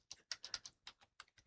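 Quick, crisp keystrokes tap out a short irregular run on a computer keyboard, close and clear in a quiet room, about a dozen clicks in a second and a half.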